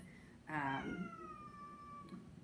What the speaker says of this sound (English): the cats are going to fight right here in front of me